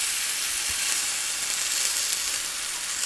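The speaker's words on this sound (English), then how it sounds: "As we are stir frying the lamb" Lamb stir-frying in a hot pan for Mongolian lamb, a dense, steady sizzle and crackle close by, continuous and fairly loud, with no voices.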